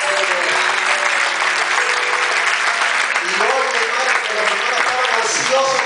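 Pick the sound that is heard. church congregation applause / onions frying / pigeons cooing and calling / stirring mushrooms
church congregation applause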